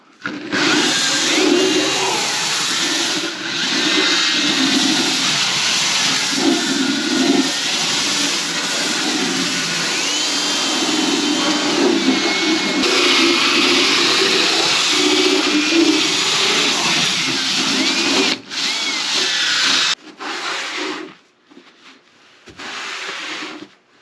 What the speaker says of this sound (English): Why just use a brush when you can use a power tool?